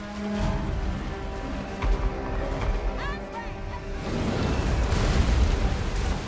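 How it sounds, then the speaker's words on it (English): Hellstorm rocket battery fire in the Total War: Warhammer video game, a continuous rumbling barrage of explosions and booms that thickens toward the end, with battle noise and faint voices underneath. "There's lots of Hellstorm rocket battery fire hitting our melee block here"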